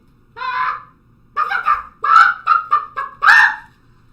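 A voice imitates a chicken straining to lay an egg during a storytelling scene, a rising squawk followed by a run of five or six clucking, honking bursts that grow louder toward the end, close and clear with no other sound.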